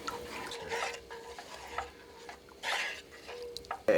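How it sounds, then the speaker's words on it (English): Spoon stirring seasonings such as basil and black pepper into turkey vegetable soup broth in a pot, with soft scraping and swishing bursts repeating over a few seconds, close and moderately quiet, with no talking. "Give that a good stir so that the seasonings are mixed evenly into the broth."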